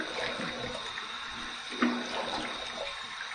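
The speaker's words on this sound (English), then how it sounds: "Here's my warm water rinse." Warm tap water runs steadily for a rinse while shaving with a copper safety razor, a soft continuous trickle with a brief splash partway through.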